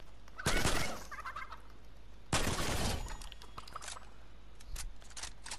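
Chicken clucking from a video game in a primal-only survival challenge, two loud bursts of squawking about two seconds apart followed by softer scattered noises, with no talking.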